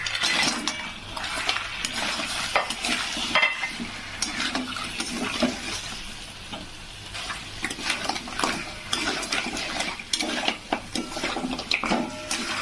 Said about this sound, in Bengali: এবার আমি কাঁকড়াটা দিয়ে দেব।